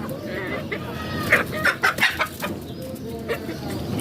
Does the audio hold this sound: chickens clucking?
yes